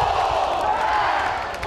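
A capacity crowd at an NC State baseball game at Doak Field in Raleigh makes a steady, dense roar of murmuring voices and cheers, with a broadcaster talking over it.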